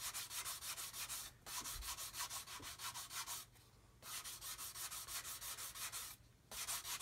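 A sanding stick worked lightly over a wooden buff in rhythmic strokes, a close dry rubbing rasp repeated steadily in long bursts broken by brief pauses, with no voices.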